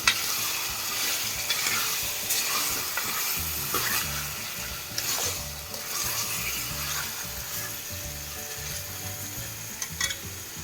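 Chicken stirred through masala in a hot pan, with steady sizzling frying and repeated scraping stirs running close and continuous throughout.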